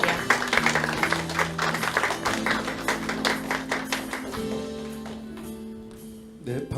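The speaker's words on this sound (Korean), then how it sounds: "무대 위에 올라오실 때 따뜻한 박수 부탁드릴게요" Audience clapping at an AI forum in Seoul as a speaker comes onto the stage, brisk scattered applause that thins out toward the end.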